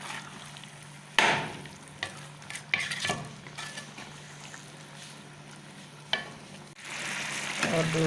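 Zarda sweet rice with raisins and almonds is mixed in a pan, giving scattered sharp spoon knocks and scraping stirs over a faint background hiss, with a louder rustling stir near the end.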